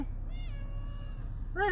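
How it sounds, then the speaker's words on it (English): A cat gives two clear meows, a long drawn-out cry followed by a shorter one at the end, close and loud over a steady low background hum. "Meow, Jeff. Come on, buddy. Meow. Meow."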